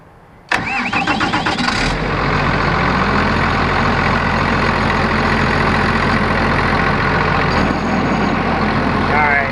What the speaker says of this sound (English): what this does is it runs the main propeller pump